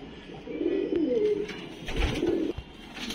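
Soft repeated pigeon coos, low and throaty, close by with a few rustles and small knocks in between.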